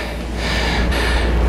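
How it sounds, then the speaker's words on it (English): Heavy, loud breathing of a man over fifty, close up, right after a one-leg lower-body drop set, with deep ragged inhales and exhales and no talk. "Look how out of breath I am"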